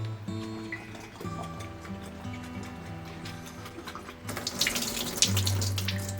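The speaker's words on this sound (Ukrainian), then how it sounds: "доливаємо води трішки на дно фільтрованої. І промиваю огірки." Filtered water pours into a jar of fermented cucumbers to rinse off a white film, a steady running splash that grows louder and brighter in the second half, with no talking over it.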